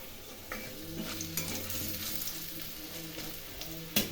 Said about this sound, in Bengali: কালো জিরে ভেজে নিলাম।